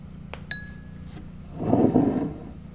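A glass of water gives two quick bright clinks with a ringing tone, followed by softer handling and shuffling sounds nearby.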